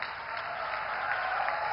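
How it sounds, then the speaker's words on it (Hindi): A crowd at a public ceremony in Dhanbad, Jharkhand applauds as the Prime Minister flags off new rail services. Steady, even clapping rises slightly and fills the short stretch with no talking over it. "तालियां जोरदार हो।"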